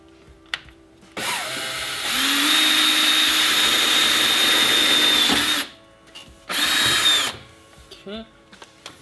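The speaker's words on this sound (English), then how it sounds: "I'm gonna drill one hole first" A power drill whirs loudly for several seconds, pitch steady under load, drilling a hole for Tacoma hood struts, stops, then runs again in a shorter burst before quiet clicks.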